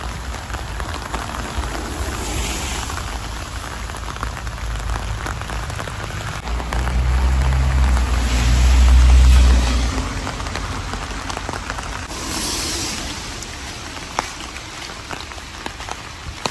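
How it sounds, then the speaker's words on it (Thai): Heavy rain pours steadily on a street in England, a dense, even hiss that swells louder near the middle before settling back, with no voices. "ตอนนี้ฝนตกตอนออกมานั้นไม่ค่อยตกไม่หนักอันนี้ตกหนัก"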